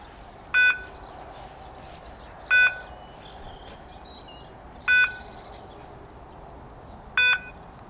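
A Tyxal+ alarm system with a DME180° outdoor motion detector gives four short, clear electronic beeps at even intervals of about two seconds over quiet outdoor ambience.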